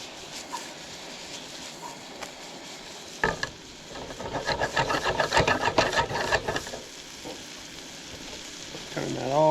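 Onion and pepper frying in butter that is browning, an intermittent sizzle with scraping stirs that swells in the middle, then fades before a final loud burst of sizzling at the end.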